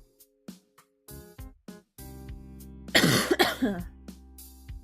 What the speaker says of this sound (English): Alright, that was a good cough right there.